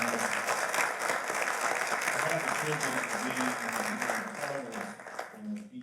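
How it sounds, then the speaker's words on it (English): Applause from an audience at a Martin Luther King commemoration event fills the room steadily, with a voice speaking over it toward the end as the clapping thins. "Can we give another round of applause for the recipients of this year's award?"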